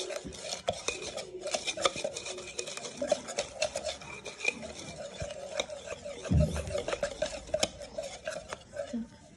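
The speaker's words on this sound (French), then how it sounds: "Une fois qu'on a tamisé, on va venir mélanger la pâte." Japanese pancake batter of egg yolk and sifted flour is stirred in a bowl, giving steady close scraping and rubbing with frequent light clinks of the utensil against the bowl.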